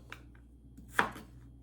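A knife cuts carrots into long fry-like strips for a spicy carrot pickle: a few faint, sparse taps and one louder crisp cut against the board, with no talking.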